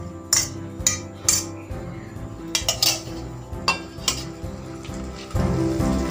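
Tomato pieces tip into a pan on the stove for a brinjal-tomato chutney. Clinks and knocks of metal utensils against the pan come in several brief bursts, along with a soft clatter of pieces landing, and nobody talks.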